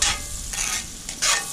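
Rosemary and garlic sizzling in a hot pan for burgers, a steady loud fry hiss that swells in bursts with stirring, close and alone.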